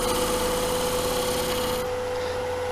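A gouge carves a groove in wood, a steady, close rasping scrape with a constant hum beneath it that eases off and thins slightly near the end.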